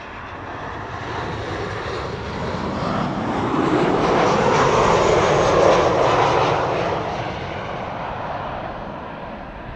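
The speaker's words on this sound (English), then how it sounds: "This is KLM flight 1294, 737-800 arriving from Billund." A KLM Boeing 737-800 airliner arrives at Amsterdam Schiphol, its jet engine roar swelling to a broad peak mid-pass before easing away. It is loud and continuous, with no talking.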